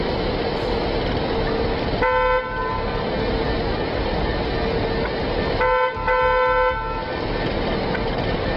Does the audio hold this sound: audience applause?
no